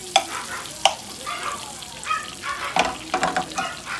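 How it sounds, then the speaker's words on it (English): Cream cheese and butter melting in a pot for potato soup, giving a soft sizzle with occasional stirring scrapes and a few sharp clinks of a utensil against the pot, close and fairly loud. "we're going to melt our cream cheese and our butter"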